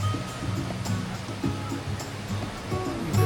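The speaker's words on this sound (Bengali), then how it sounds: "এইরকম উত্তাল সমুদ্রের ঢেউ দেখতে কার না ভালো লাগে।" Rough sea waves on the beach at Shamlapur, Cox's Bazar, making a continuous churning wash with repeated swells and crashes.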